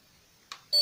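Mishin coil generator switched on, giving a short faint tick followed by a clear steady electronic beep tone close by.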